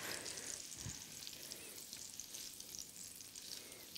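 Chorizo frying in olive oil in a pan for paella, a quiet, steady crackling sizzle with soft pops and a brief stir, heard close with no talking.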